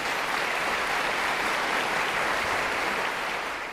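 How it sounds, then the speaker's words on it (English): An audience at a college gathering gives a sustained round of applause for the college president, a dense, even wash of clapping that fades slightly at the end. "So give our president another big round of applause, Dr. Bobby Knight."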